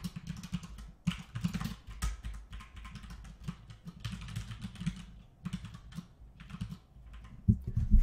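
Rapid, steady typing on a computer keyboard resting on a person's lap, close and fairly loud, with irregular clusters of keystrokes and brief pauses and no talking.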